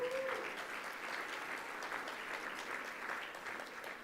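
An audience at a college conference morning opening claps steadily and densely, a sustained wash of applause from a crowded room with no pause.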